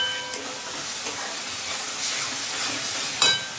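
Omelette pieces dropped one by one into hot oily masala sizzle with a steady bright hiss, a small sharp crackle flaring near the end.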